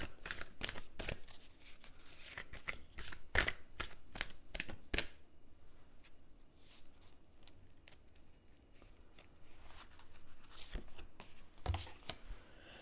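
Oracle cards being shuffled by hand, repeated crisp riffling bursts in quick succession, then a quieter stretch of soft handling before more shuffles, close and fairly faint.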